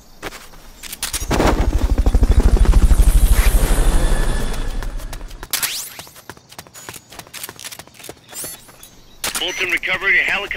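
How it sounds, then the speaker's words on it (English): A Fulton recovery helicopter in the video game Metal Gear Solid Peace Walker thunders in with a loud, rapidly pulsing rotor rumble that swells and fades, followed by sharp rapid bursts of game gunfire and clatter. "Fulton recovery helicopter is complete"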